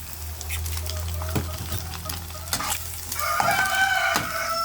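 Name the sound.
sautéing milkfish (bangus) for sisig in a pan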